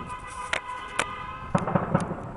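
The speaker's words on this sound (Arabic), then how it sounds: "انفجارات هز البلدة" Several sharp explosions from heavy shelling of the town of Khirbet Ghazaleh, Daraa, boom one after another, some distant and some closer, with a rumbling tail between blasts.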